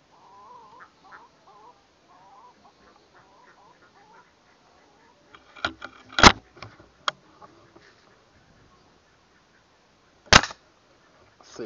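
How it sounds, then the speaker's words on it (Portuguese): Sharp gunshots at a target while hunting, a cluster of crisp cracks and then one loud report near the end, with faint bird chirps in a quiet outdoor setting before them. "Mais um tiro."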